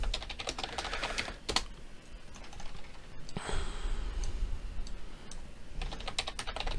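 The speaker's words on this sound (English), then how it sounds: "My fingers are hurting from typing at this weird desk here." Rapid clicking on a computer keyboard at a desk, close bursts of keystrokes with brief pauses, steady and moderately loud with no talk over it.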